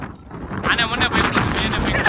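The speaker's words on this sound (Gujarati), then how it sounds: "વરસાદ તો ન કહેવાય પણ જોરદાર પવન છે." Strong, gusty wind on Girnar mountain buffets the microphone in loud, rushing bursts throughout, with a brief lull at the start.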